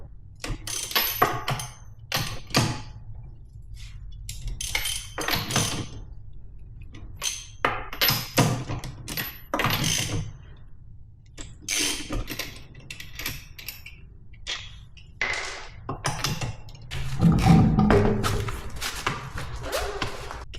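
Rear wheel coming off a lifted C8 Corvette: a string of sharp metallic clicks, ratchet taps and tool clatter, close and irregular, ending in a heavier thud and rattle as the wheel is pulled free.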